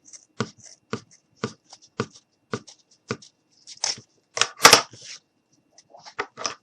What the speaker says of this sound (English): I'm going to go ahead and take my scissors